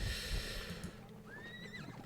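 A horse whinnies in a Thirty Years War battle game, its rising, wavering neigh sounding over a rumbling bed of battle noise and faint hoofbeats.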